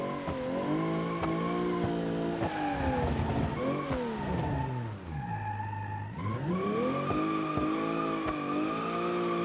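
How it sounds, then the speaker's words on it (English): A 180SX with an RB26 engine drifts down a mountain road in BeamNG, its engine revving and dropping in sweeping pitch while tires squeal continuously through the slides. "This car is just so much superior when it comes to drifting"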